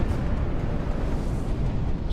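Glacier ice calving and crashing into the sea gives a continuous, heavy low rumble that stays loud and rolling throughout, with no distinct breaks.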